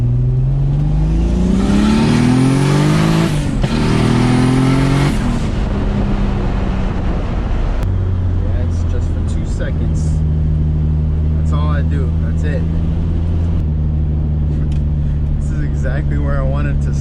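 A car engine runs close by, revving up in a couple of rising pulls before settling into a steady, droning idle, with voices talking over it in the second half.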